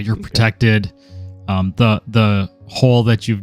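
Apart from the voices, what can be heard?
No everyday noises stand out.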